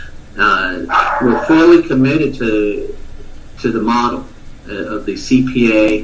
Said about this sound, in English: excuse my little dog in the background